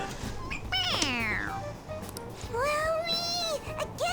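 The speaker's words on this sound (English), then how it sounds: "It meows when you press on its head." A toy cat in the video game Persona 5 Royal meows when its head is pressed, giving two long, drawn-out electronic meows, the first sliding down in pitch and the second wavering, loud and close over faint background music.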